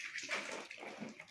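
Water pours out of a pump motor pipe in a village, a faint, steady gushing and splashing flow heard at a distance with no talk.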